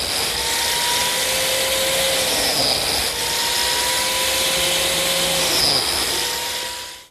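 Power tool, likely a biscuit joiner, cutting slots in the wooden joint of a table, a steady loud continuous whine that runs throughout with slight dips in pitch, close and with no talking.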